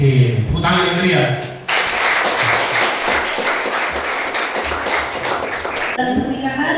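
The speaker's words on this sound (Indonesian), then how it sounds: "tepuk tangan yang meriah" Guests at a church wedding ceremony break into lively applause, a dense burst of clapping that runs for several seconds, with talking just before and after it.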